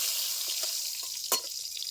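A bay leaf sizzles in hot tempering oil along with dry red chilies, giving a continuous hiss broken by a few soft pops and one sharp crackle near the end.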